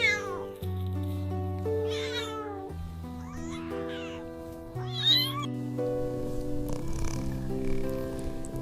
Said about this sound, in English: meowing with happiness.